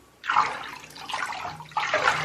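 Red-coloured water sloshes and swirls as it is stirred in a bathtub, in three close bursts of splashing with brief lulls between.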